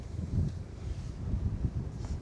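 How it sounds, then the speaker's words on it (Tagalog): Strong wind buffets the microphone outdoors in a steady low, rushing rumble that swells and eases throughout, with no voices. "Ang lakas ng hangin sumisipol."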